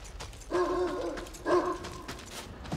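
Dog barking in the Mad Max video game, two distinct loud woofs about a second apart over low mechanical game background.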